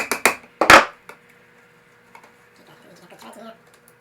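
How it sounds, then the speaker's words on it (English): A screwdriver pries a painted-over outlet cover in a 200-year-old farmhouse: a few sharp close scrapes and clicks of metal on the plate, then quieter small taps and rattles. "So I just get my screwdriver in there sideways."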